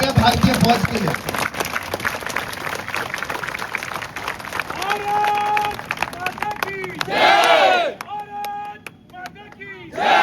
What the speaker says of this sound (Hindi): एक बार जोरदार तालियां भारतीय फौज के लिए